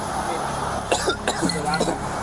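A few sharp coughs, one after another, over a background of voices talking.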